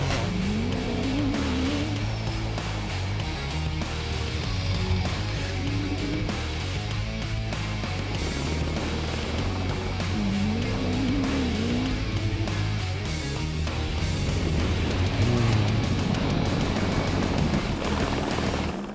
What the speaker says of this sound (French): 32 voitures se sont donc élancées pour cette première spéciale au nord du Maroc.